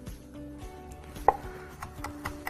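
Food for a soup is crushed and chopped on a board, a few soft knocks and one sharper crunch standing out against faint kitchen hum, close but quiet, with no one speaking.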